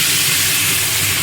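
Water poured into hot oil while cooking pabda fish curry, a loud, close, steady steaming hiss and sizzle with no voices.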